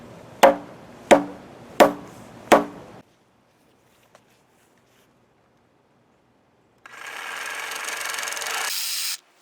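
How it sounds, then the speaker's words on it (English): An axe chops wood four times in a steady rhythm, each blow a sharp close thud, followed by quiet and then a sustained loud mechanical whir. "That's my axe."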